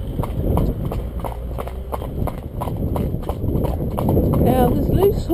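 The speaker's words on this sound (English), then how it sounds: "Now there's loose horses up here, or horses in little paddocks" Horses walk on a track with steady clip-clopping hooves, close and rhythmic, while a person talks over them throughout.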